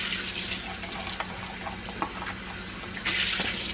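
Warm water runs steadily from a tap while a coffee cup is rinsed, a close, continuous hiss with small splashes and clinks. It surges louder near the end as the flow hits the cup more directly.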